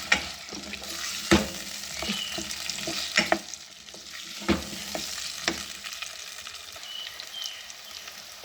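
Turmeric and red chili sizzle in hot oil with irregular popping crackles and occasional stirring scrapes, close but fairly soft, with no talking.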